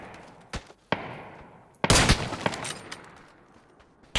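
Sharp gunshots in the video game PUBG on the Miramar map crack out intermittently, a few isolated shots and then a denser burst of rapid fire, with no voices.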